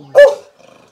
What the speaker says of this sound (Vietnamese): có cả con chó, con gâu đây